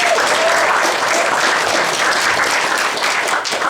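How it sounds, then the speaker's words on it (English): An audience at an anniversary remembrance event in San Francisco gives a sustained round of applause, dense and steady throughout before easing slightly at the end. "so a big round of applause to them"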